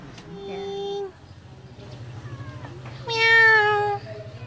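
A house cat meows several times, close and clear, with a longer, louder meow near the end over a low background hum.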